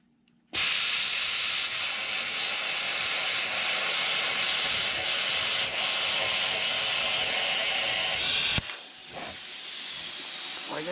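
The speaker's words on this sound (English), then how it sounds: "I've never once in my life used a plasma cutter" Plasma cutter slicing through a steel grapple bucket: a loud, steady broadband hiss that starts abruptly, runs unbroken for about eight seconds, then cuts off, leaving quieter noise behind.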